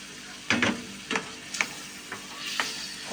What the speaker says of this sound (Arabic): طبعا كده اديتها تشويحه اهي